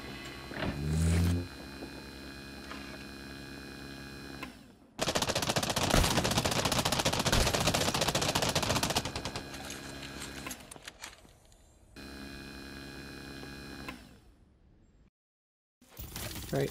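Heavy automatic gunfire in the Elite Dangerous Odyssey video game during a surface settlement raid, a loud sustained burst in the middle, with quieter machine-like hums and gaps around it.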